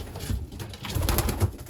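Young racing pigeons cooing inside their loft, a few low, throaty coos rising and falling close by over a soft rustling background, with no talking.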